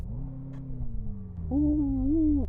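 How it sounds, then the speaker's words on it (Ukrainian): A Mercedes-AMG GT petrol V8 held on its rev limiter while stationary, a loud steady drone that jumps into a higher, whining wail for about a second before cutting off. "Дуже дивно, що бензиновий V8, стоячи на місці, на обмежувач обертів видає такий виючий звук."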